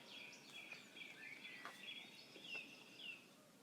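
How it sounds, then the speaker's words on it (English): Faint, high birds chirp continuously in the distance over a soft background hiss, with no voices. "you started hearing the noises of birds chirping"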